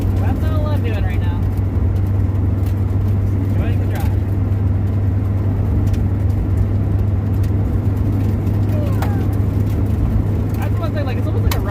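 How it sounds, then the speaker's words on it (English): Car driving on a rough road, a steady engine drone with a constant low hum, loose dirt and grit flicking and ticking against the underside in scattered bursts throughout, someone talking over the noise. "just because of hearing all that, you know, like, sort of, like, dirt and grit and stuff just whipping up into the underside of the car"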